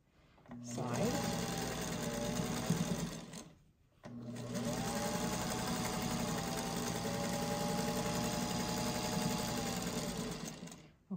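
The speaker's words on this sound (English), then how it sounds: "this is just kind of how I sew a block." A domestic sewing machine stitches a quilt block in two long whirring runs, the first about three seconds, then a brief pause and a second steady run of about seven seconds, close up with no talking.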